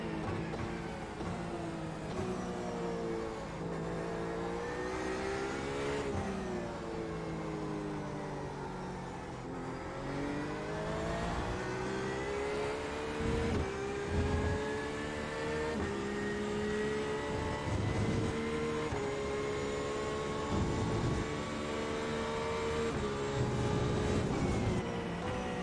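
A BMW and a Porsche race in iRacing with a continuous engine drone that rises and falls through upshifts and downshifts, sweeping in pitch as revs build, with several cars blending together and sounding close throughout.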